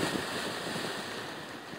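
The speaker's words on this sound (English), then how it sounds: "The wind's blowing from the wrong direction." Wind blows across an east-side shore dive site on Bonaire, a steady broadband roar with microphone buffeting and surf-like rushing that stays loud and continuous.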